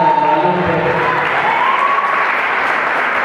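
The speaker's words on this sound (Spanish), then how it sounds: "Fuerte el aplauso" Steady, loud applause fills a hall at a youth queen pageant in Jalisco, with dense clapping throughout and a brief high whistle-like tone rising over it.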